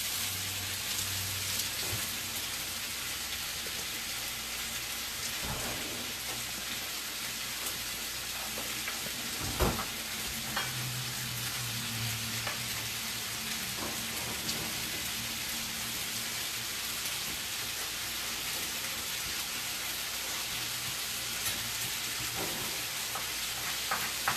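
Potatoes topped with chives sizzle and fry in a pan, a continuous crackling hiss with occasional pops and stirring scrapes, heard close with no talking.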